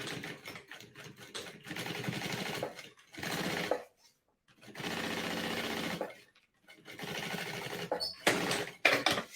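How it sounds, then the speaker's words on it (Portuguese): Sewing machine stitching a fabric strip face to face for a multipurpose organizer case, running in several separate bursts of fast whirring needle chatter with short pauses, close and clear. "e aí nós vamos entrar na máquina passando uma costura"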